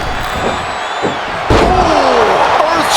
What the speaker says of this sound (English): Oh, earth-shattering spine buster.